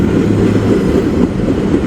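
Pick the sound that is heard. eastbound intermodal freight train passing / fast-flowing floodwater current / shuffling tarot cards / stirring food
eastbound intermodal freight train passing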